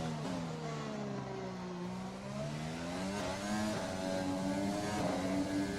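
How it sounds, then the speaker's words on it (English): F1 car in the F1 2020 video game pulling out of a slow corner at Monaco with wheel spin, a rising then wavering engine whine with climbing harmonics, steady and fairly close, no talk. "Hear the wheel spin coming out of that corner."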